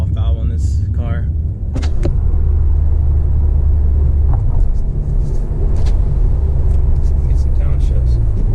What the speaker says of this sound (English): I do have a blow-off valve on this car.